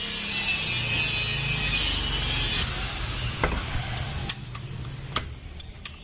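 A ratchet wrench clicks rapidly and loudly up close while turning the crankshaft of a Toyota Kijang LGX 2L diesel engine during a valve clearance check, then a few slower single ticks follow.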